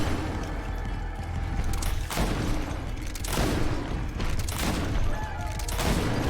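Loud gunfire from the video game GreedFall, with repeated heavy blasts and booms over a dense, continuous background of combat noise.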